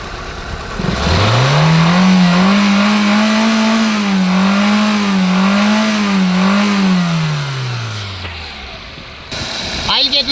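A 2007 Maruti Suzuki Zen Estilo engine is lightly revved with the oil dipstick pulled out, the hum rising smoothly, holding with slight wavering for several seconds, then falling back toward idle; loud and close, with a brief clatter at the end.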